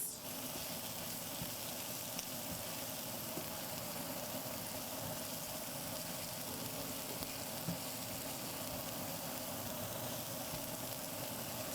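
Onions sizzle steadily in a pan while being stirred, a continuous close crackling hiss with soft scraping, unbroken and even throughout with no talking.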